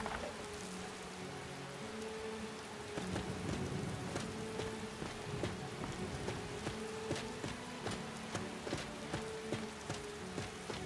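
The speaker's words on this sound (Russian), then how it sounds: "Сегодня дождь не закончится, я правильно понимаю?" Steady rain falls in the Skyrim Special Edition game world, a constant patter of drops on surfaces with scattered sharper drips, plus a low tonal hum of game ambience beneath, and no talk.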